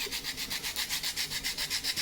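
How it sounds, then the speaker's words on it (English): A sanding block rubs back and forth over balsa wood on a model build, making about ten quick, even scratchy strokes in a steady rhythm, close up and with no talking. "use a sanding block and sand a little bit wood"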